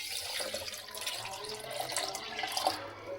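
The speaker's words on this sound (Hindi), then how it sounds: "2 ग्लास इसमें जाएंगे पानी के।" Two glasses of water pour into a kiwi juice mixture with sugar and ground black salt, giving a steady, soft splashing trickle throughout without any talking.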